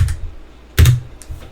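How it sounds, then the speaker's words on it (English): A few separate key presses on a computer keyboard, arrow key taps and a space bar hit, sharp and close with quiet gaps between them. "I'm going to use the arrow key on my keyboard to arrow down and then hit the space bar on my keyboard"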